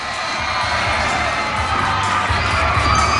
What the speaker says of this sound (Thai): ขอเสียงปรบมือดังๆ